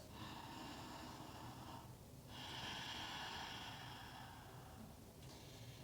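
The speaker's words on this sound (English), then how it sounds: "Ujjayi breath still." Slow, steady ujjayi breaths drawn through a constricted throat during lying-down yoga relaxation, a soft continuous ocean-like hiss with brief pauses between breaths, close and alone.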